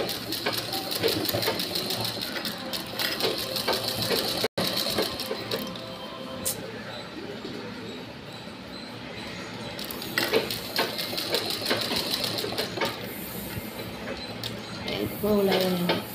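Continuous whirring of a sewing machine stitching a round pillow, running steadily with one sharp break partway through, while a person talks intermittently over it.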